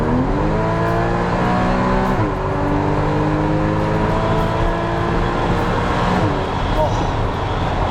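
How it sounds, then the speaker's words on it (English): A Porsche 981 Cayman's sports exhaust roars loudly and steadily as the car accelerates along an open road, the engine note climbing through the gears with a brief dip at a shift. "Now the next thing is the sports exhaust."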